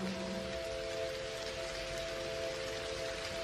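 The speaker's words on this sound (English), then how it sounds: "It's starting to rain." Steady soft hiss of rain falling, continuous and even, with a faint low hum underneath.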